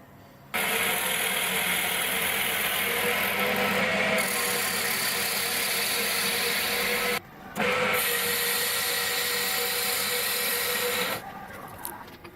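A hand-held boring tool grinds out a plastic Ceika type 2M coilover top bearing part, a loud continuous rasping whir that runs steadily, cuts off briefly and resumes, then drops in level near the end.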